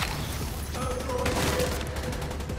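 Gunfire in the video game The Division 2: bursts of rapid automatic shots and scattered reports, moderately distant, crackling over a busy game soundscape.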